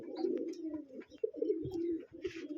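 Pigeons in a loft cooing nearby, a few soft low throaty coos in quick succession with faint rustling and a brief chirp, no voices.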